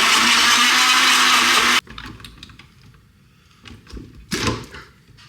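A kitchen blender whirs loudly and steadily for about two seconds, then cuts off abruptly, leaving quiet handling clatter and a louder knock or thump near the end.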